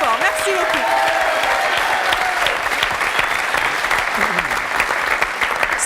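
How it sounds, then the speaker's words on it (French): Audience at a French television impressionist contest applauds a contestant, a dense sustained clapping from a crowd that continues throughout, with a voice speaking over it at the start. "je pense qu'on peut vraiment l'applaudir très très fort"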